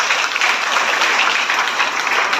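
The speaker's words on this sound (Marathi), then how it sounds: "नारायण सुर्वेसाठी जोरदार टाळ्या." An audience at a memorial gathering bursts into loud, continuous applause, a dense wall of clapping at close range that holds steady without any talking.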